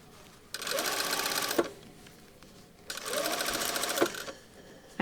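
A sewing machine stitching over a shirt cuff placket with a back tack, two distinct bursts of fast mechanical whirring separated by a short pause, close and clear.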